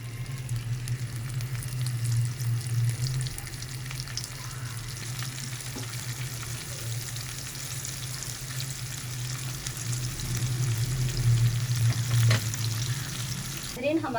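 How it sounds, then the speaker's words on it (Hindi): Chopped onions fry in ghee in a home kitchen pan, giving a continuous crackling sizzle with a low steady hum underneath. Occasional stirring scrapes break in, and the frying holds fairly constant and close throughout with no talking. "हमारे प्याज फ्राई हो गए हैं 6 मिनट के अंदर।"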